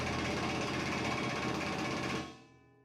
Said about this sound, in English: First, with a much too small pneumatic impact wrench and a much too small air compressor.